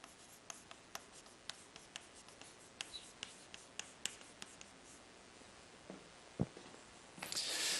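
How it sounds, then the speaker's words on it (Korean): Marker or pen strokes on a board during an economics lecture tick and scratch in a quick, irregular series of faint close taps, ending with a brief rubbing swell, with no talk. "자, 이렇게 써볼게요."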